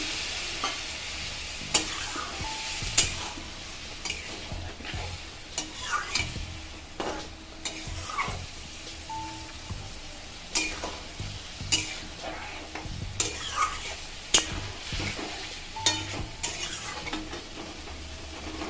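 Masala spices for a prawn curry with potato and pointed gourd sizzle in a pan as a spoon stirs and scrapes steadily, with occasional louder metallic clinks against the pan and no talking.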